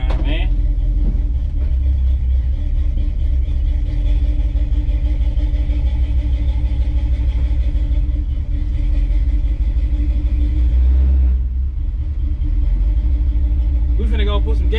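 A small-block Chevy 350 V8 in a 1983 C10 pickup idles and runs steadily as it warms up, a deep continuous rumble heard from close by, likely from inside the cab, with a brief swell in revs near the end.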